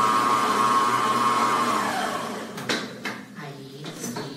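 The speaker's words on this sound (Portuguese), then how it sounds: "nunca liga a batedeira numa velocidade alta" An electric stand mixer runs at low speed, mixing a soft dough with a steady motor whir. It winds down after about two seconds, followed by clattering of the bowl and utensils.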